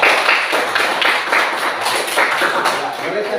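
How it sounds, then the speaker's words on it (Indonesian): A classroom group claps for group 3, a busy patter of hands that keeps a steady, fairly loud rhythm throughout with a few thumps mixed in. "kita tepuk tangan untuk kelompok 3"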